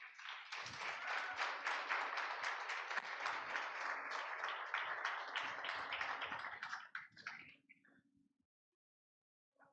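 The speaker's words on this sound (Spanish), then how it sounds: "Denle un aplauso al Señor" A church congregation applauds together, a dense, steady burst of clapping lasting about seven seconds before thinning out and stopping, with no talking over it.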